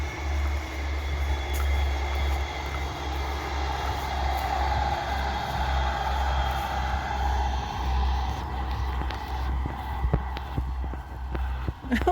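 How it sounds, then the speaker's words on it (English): Continuous low rumble of a train rolling past nearby, steady throughout with some rattling toward the end. "Oh, the train."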